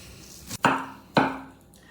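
A knife finely chopping fresh cilantro and green onion on a board for a chicken-heart appetizer, with two sharp, close chops about half a second apart, each ringing briefly.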